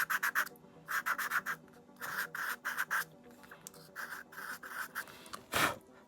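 A Derwent white pastel drags across paper in close, scratchy strokes, grouped into quick bursts of three to five with short pauses between, ending in one heavier rub.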